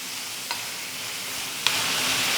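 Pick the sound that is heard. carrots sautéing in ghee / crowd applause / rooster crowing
carrots sautéing in ghee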